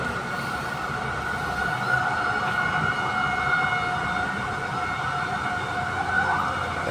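Fire truck sirens wail steadily in the distance, responding to a fire alongside roughly a dozen fire engines. The tone is sustained and continuous over a busy background hum, with no voices heard.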